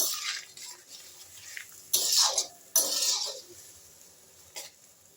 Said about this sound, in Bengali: এ দেখো ফুটতে লেগেছে, গরম জল ফুটেও গেল